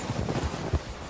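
Hooves of a legendary White Arabian horse in the video game Red Dead Redemption 2 clop on the ground in a short run of soft, muffled steps.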